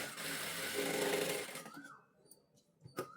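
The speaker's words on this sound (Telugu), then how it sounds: "ఇక్కడ నుంచి ఎటువంటి ఉగ్గులు రాకుండా స్టిచ్ చేసుకోవాలి." Sewing machine stitching the back neck of a blouse, a steady close mechanical whirr for about a second and a half that then stops, followed by faint handling clicks.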